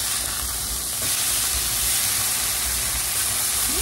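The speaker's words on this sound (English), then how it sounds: "we're gonna flip this burger" A burger patty sizzles loudly in a hot pan as it is flipped, giving a continuous, close, steady hiss of frying throughout.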